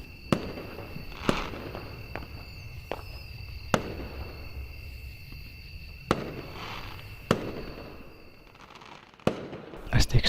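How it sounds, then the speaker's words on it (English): Fireworks rockets bursting in a visual novel scene, sharp cracking explosions at irregular intervals over a steady hum of crickets or insects, with some booms farther off and a denser cluster of cracks near the end. "the sound of the first rocket ascending, its explosion bent a circular pattern in the sky"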